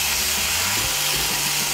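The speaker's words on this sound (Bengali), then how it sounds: "মিশিয়ে নিয়ে হালকা করে একটু ভেজে নেব" A Bengali spice mixture with sugar frying lightly in a pan for a potol dish gives a steady, loud broadband sizzle and hiss that carries on without a break, with no voices.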